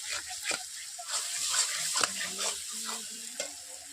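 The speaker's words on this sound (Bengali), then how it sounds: "দুটোকে ভালোভাবে আমি কষিয়ে নিচ্ছি মশলার সঙ্গে" Sautéed jackfruit and spices stirred in a wok, with clattering spoon scrapes against the pan over a steady sizzle, close and moderately loud, with brief indistinct background voices.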